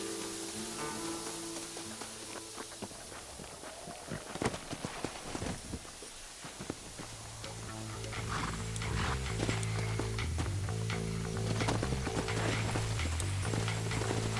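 Horse hooves clip-clopping in the video game Red Dead Redemption; a steady rhythmic plod of footfalls under a droning music bed, with brief mechanical clatter midway before the riding continues.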